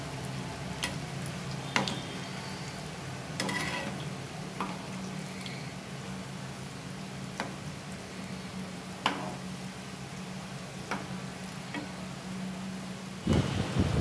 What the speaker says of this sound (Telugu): ఇలా తిప్పుకుంటూ గోల్డెన్ కలర్ వచ్చేదాకా ఫ్రై చేసుకోవాలండి